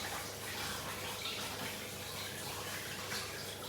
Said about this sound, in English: because my hands are really messy, I'm just gonna give them a quick rinse